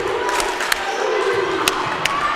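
A crowd at a volleyball nationals match chants a cheer in unison, a broad roar of voices punctuated by a few sharp claps.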